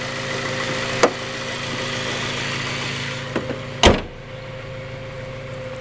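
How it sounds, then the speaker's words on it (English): A 2001 Honda Civic Type R EP3 engine idles steadily, then a single loud metallic slam of the hood closing stands out near the end, with a smaller knock earlier. "gonna lower the hood"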